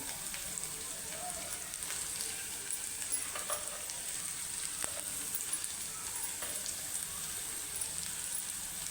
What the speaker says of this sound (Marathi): बारीक चिरलेला कांदा चांगला परतवून घ्यायचा सोनेरी कलर येईपर्यंत करपवायचा नाही